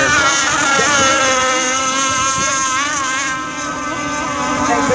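A big Geico racing boat engine passes at the 2017 Winter Nats, a loud, steady droning whine whose pitch wavers and shifts as it goes by, with no talk over it.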